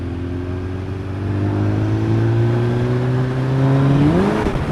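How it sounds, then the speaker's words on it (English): Suzuki GSX 1400 motorcycle engine droning at a steady pitch that climbs, then surges sharply upward near the end as the rear wheel spins, loud and close with no talk. "there's a wheel spin"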